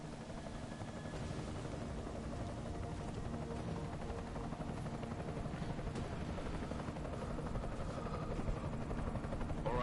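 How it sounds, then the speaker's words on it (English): In the Deus Ex: Mankind Divided video game, an enemy helicopter holds a steady, rapid rotor thump with a droning engine, loud and unbroken throughout. "Enemy helo sighted."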